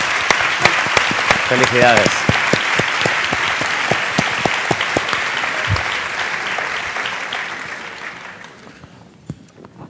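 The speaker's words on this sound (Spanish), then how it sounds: "que antes de nada le demos un aplauso" Dense, loud audience applause fills a social work conference hall in Zaragoza, Aragón, sustained for several seconds before gradually thinning and fading, with a voice briefly heard over the clapping.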